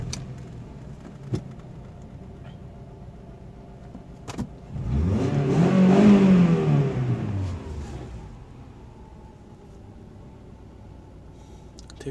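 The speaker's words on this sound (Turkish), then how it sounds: "Bir de motoru çalıştıralım." A car with a knock sensor fault, checked with an OBD diagnostic tool, is started: a few faint clicks, then an engine that rises, revs up loudly near by and settles back down before quieting, with no voices.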